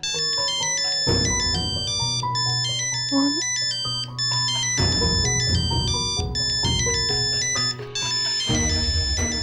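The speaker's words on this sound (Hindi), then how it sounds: "सुनंदा मासी का कॉल।" A mobile phone ringtone plays for an incoming call, a loud melodic tune with repeating bright tones and a steady beat, close and continuous for several seconds.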